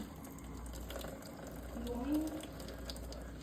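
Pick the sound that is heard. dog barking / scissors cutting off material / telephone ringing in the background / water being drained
water being drained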